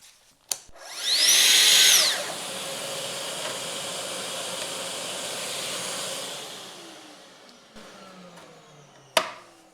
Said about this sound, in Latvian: Nu ko, zāģēsim nost uzreiz to rādiusu.